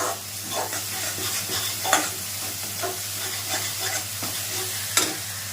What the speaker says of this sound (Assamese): সেই সময়খিনি অকণ পিঁয়াজখিনি ভাজি লওঁ।